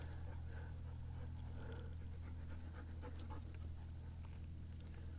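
An excited dog panting close by outdoors after finding a stick, quick steady breathy huffs running continuously under a low background hum, with no talking.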